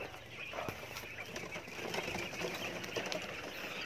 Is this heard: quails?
yes